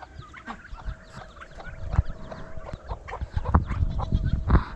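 Several hens cluck and chatter in short bursts, close by, with soft rustling and faint background birdsong.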